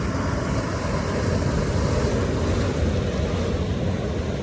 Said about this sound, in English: We got some waves rolling in, that's a big one coming in.